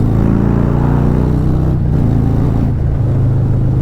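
A Harley-Davidson motorcycle with a 131ci Stage 4 crate engine drones loudly and steadily at moderate revs, about 2,500 RPM in sixth gear while riding, with a deep harmonic rumble throughout.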